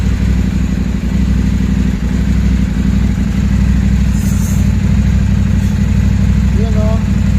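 A KTM 790 Adventure motorcycle engine idles steadily with a low, even rumble that stays up close and constant, while voices chatter faintly in the background.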